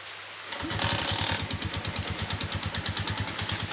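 A Suzuki Shogun motorcycle engine with a worn piston idles nearby after starting, with a brief rev, then a steady, even putter with a slightly loose, ticking beat.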